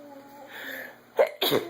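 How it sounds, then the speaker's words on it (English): Two sharp, close bursts from one person, a short breathy sneeze-like catch followed by a louder one, with faint murmuring before them. "Oh, goodness, Mama's got sneezes."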